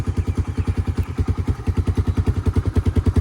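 A Honda 300 ATV engine idles steadily and close by, its exhaust thumping in an even, rapid pulse with a light mechanical clatter on top, no other sounds present.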